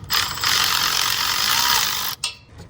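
Ratchet loosening two 10 mm bolts on an EG Honda Civic B/D series shifter, a close, fast steady clicking run that stops abruptly, followed by a short clack, no talk.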